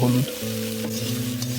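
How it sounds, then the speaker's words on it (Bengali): Chopped jute leaves frying with salt and turmeric in a pan, a close steady sizzle with a brief low tonal hum at the start and light stirring scrapes, no speech. "হলুদও মিক্স করে নিল, ভেজে নিল ভালো করে।"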